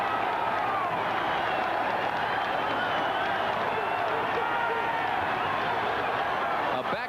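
A dense football stadium crowd roars at kickoff of the 1986 Oklahoma versus Texas game, a steady, loud wash of cheering and clapping that holds at full strength throughout with no break.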